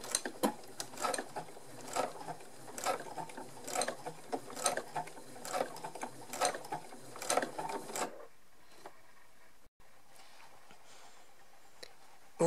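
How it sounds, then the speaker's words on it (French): A domestic sewing machine runs at medium speed, topstitching close to the edge of a small fabric pouch, giving a rapid, even mechanical ticking for about eight seconds before stopping, fairly quiet and near. "je vais tout surpiquer le plus près du bord"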